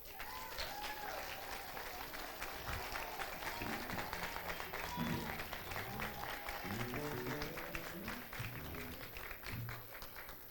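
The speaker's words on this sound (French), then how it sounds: "Je vous demande d'applaudir notre pasteur chaudement." A church congregation at a worship center applauds its pastor with continuous, fairly distant clapping that lasts ten seconds while voices and cheering mix in beneath it.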